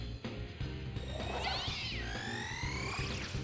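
A cat girl demon from the Shin Megami Tensei III video game meows and caterwauls with high, sliding, whiny cries over a steady game music and sound-effect backdrop, with no talk.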